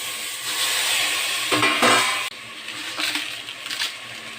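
Grated ginger and tomato fry in a pan with a continuous moderate sizzle, broken by a few scraping stirs and a brief clink, fairly close with no talk.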